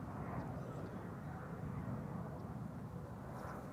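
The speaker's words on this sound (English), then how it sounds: "German Airways flying on behalf of KLM, going to the center runway." A German Airways airliner flying on behalf of KLM taxiing to the center runway at Amsterdam Schiphol, heard as a faint, steady, distant jet engine rumble and whine.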